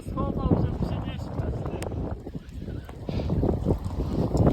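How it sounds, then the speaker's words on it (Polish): Strong gale wind roars and buffets the microphone with heavy rumbling gusts at a carp fishing lake in March, tearing at tents, while voices talk underneath. "Wichura, namioty zrywa, rodpody tak samo."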